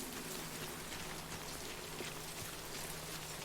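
Rain pours down in the video game Death Stranding, a dense, constant hiss of drops striking the ground, close and enveloping, with no voices.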